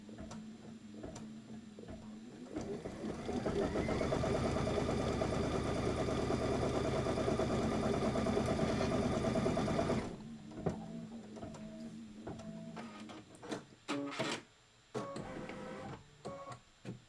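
An embroidery machine stitches a quilt border, running with a fast, steady mechanical chatter for several seconds before stopping. Then come scattered clicks and clunks from handling the hoop.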